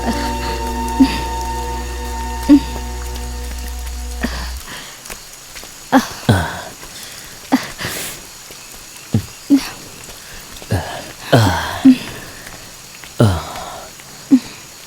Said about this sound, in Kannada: ಮಳೆ ನಿಂತ ತಕ್ಷಣ ಇಲ್ಲಿಂದ ಹೊರಟೋಗೋಣ